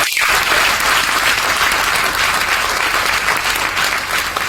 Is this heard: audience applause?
yes